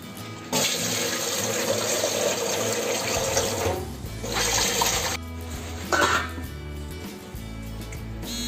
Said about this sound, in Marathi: गॅस बंद करते आणि चाळणीवर ओतून घेते।